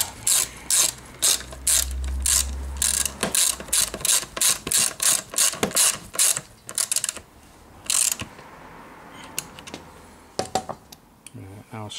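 A ratchet tightens screws holding the panels back onto a repaired gaming swivel chair, producing rapid bursts of sharp close clicks in a steady rhythm, then fewer scattered clicks and handling noise.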